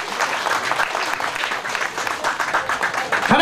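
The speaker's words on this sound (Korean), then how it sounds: "얼른 박수 한번 쳐주세요" A crowd applauds at a Korean pumba performance during the October Yecheon festival, with dense, continuous clapping close by. The clapping holds steady for several seconds, with possible faint voices underneath.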